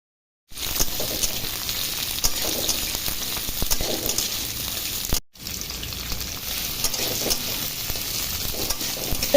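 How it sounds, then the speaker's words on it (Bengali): Garlic sizzling and frying in two tablespoons of hot white oil in a wok, a loud continuous crackle with occasional stirring, briefly cut by a short gap midway. "কড়াইয়ে 2 টেবিল স্পুন সাদা তেল দিয়ে গরম হলে দিচ্ছি রসুন কুচি।"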